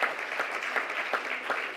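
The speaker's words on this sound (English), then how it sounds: "Just give yourselves another round of applause." Audience applause for housing advocates at the Voices of Conscience event, a steady wash of many hands clapping at moderate distance, fairly soft and continuous without talk.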